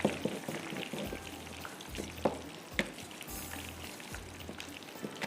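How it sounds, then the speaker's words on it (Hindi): Shrimp frying in a hot pan, a steady crackling sizzle with scattered sharp pops and spatters close up, with no voices. "ये भी फ्राई हो रहे हैं"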